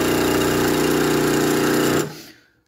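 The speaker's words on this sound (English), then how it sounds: "if you want to do that double backstitch, you press it again, and you're on full automatic backstitch" A PFAFF 2545 ECO Powerline industrial sewing machine runs at full speed through an automatic backstitch, a loud, even mechanical chatter that cuts off abruptly and winds down to quiet.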